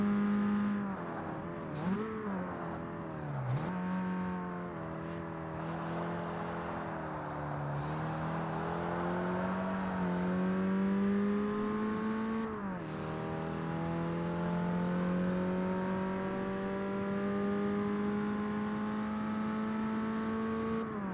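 An older Porsche races in Forza Motorsport, its engine droning and rising through the gears with brief dips at each shift, a continuous revving whine carrying through the lap with no one speaking.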